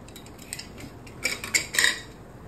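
A spoon stirring Malvani black pea usal with ground masala in a metal pot, with soft scraping and light clinks that grow a little louder toward the end, close but quiet.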